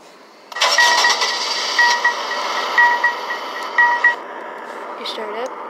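The 2021 Stuttgart Brecki, a Mercedes-like car in a video game, starts with a cranking rise into a steady idle, loud and close, with a few short electronic tones.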